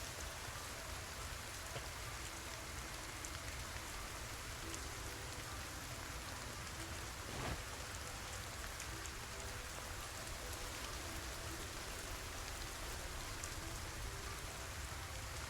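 Steady rain falls throughout a quiet Project Zomboid game scene, a soft, even wash of patter with no voices and no breaks.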